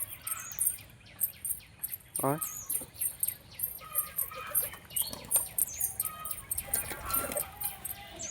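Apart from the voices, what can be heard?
pigeons coming and flapping wings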